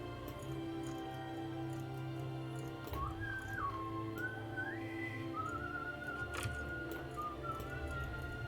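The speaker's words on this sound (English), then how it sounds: "I realize that probably my whistling is going to be very out of beat with the music" A person whistles a wavering, melodic tune in bursts with short pauses, fairly close but soft, over a steady low background hum of music or room noise with a few faint ticks.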